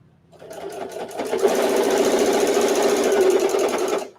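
A sewing machine stitches fabric for a microwave potato bag, its motor whirring up quickly and running at a steady fast hum for about four seconds before stopping.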